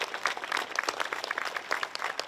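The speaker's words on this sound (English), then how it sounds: "please give them a round of applause" An audience at a school career initiative launch gives a brief round of applause, the claps quick and somewhat distant, with no talking.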